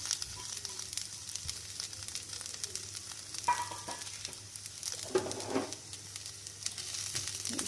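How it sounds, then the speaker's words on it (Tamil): Chopped onions hit hot oil with okra in a pan, giving a quiet, steady sizzle with brief louder crackling bursts and a few soft stirring scrapes, no voices. "சேர்த்துட்டு கட் பண்ணி வச்சுருக்க வெங்காயத்தை சேர்த்துப்போம்"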